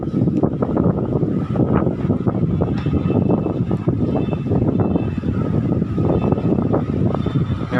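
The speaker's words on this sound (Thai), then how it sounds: "ก็มีลมพัดพอสมควรนะ" Wind blows along Ho Chi Minh City's Book Street, a continuous rumbling rush and microphone buffeting with traffic noise mixed underneath.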